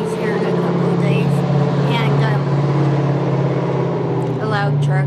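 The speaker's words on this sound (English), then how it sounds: "and a loud truck" A loud truck passes on a warm, sunny day, its steady engine rumble and drone filling the whole clip at close range, with faint chirps and other sounds over the top.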